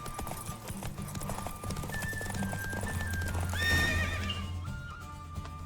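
Horse galloping in a race in the video game The Witcher 3, with a rapid clip-clop of hooves and a loud neigh or whinny near the middle, close and clear over game background sound.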